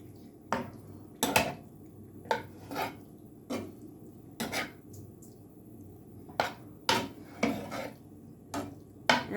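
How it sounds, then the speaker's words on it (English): A spoon scrapes and clanks against a skillet while ground beef quesadilla filling is stirred, giving sharp irregular metallic knocks spaced about a second apart over a quiet background. "I'm going to stir that up."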